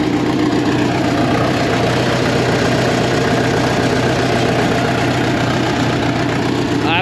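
A heavy earth-moving machine's diesel engine runs at a steady idle after being started following reassembly, a continuous close rumble with a constant low throb and no talk over it.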